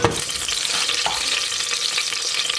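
Onions sauté in plenty of hot olive oil in a pan, giving a close, steady hiss of sizzling with a faint stir near the start.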